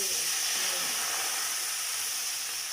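Ready-made curry paste stir-fries in a pan for Isan-style coconut-milk noodles, a continuous close hiss and sizzle holding steady throughout.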